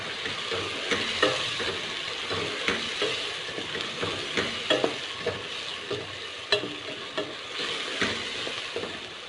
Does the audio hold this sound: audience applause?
no